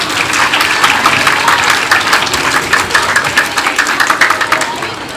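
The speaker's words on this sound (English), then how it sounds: "One more round of applause for Mr. Graham." Audience applause at a school Men Make A Difference Day event, a dense sustained clapping wash that fills the whole stretch at steady loudness, with a faint voice underneath.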